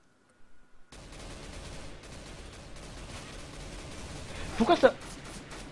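Bursts of gunfire in a multiplayer shooter, a short cluster of loud rapid shots near the end over a steady game background, with someone talking throughout.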